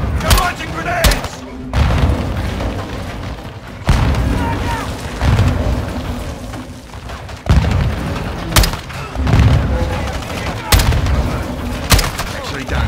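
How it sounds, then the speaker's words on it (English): Grenade launches and gunfire in the Call of Duty Modern Warfare 2 (2022) intro, loud sharp reports and heavy booms recurring every second or two over a rumbling battle bed, with voices shouting between blasts. "Incoming! Take cover! They're launching grenades!"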